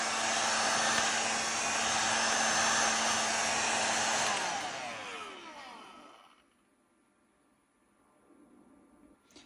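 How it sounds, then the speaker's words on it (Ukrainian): A heat gun warming a plastic candle mold blows a loud, steady roar of hot air up close for several seconds, then cuts off and winds down to near silence. "Взяла фен будівельний і прогрію форму, так, щоб вона була тепла."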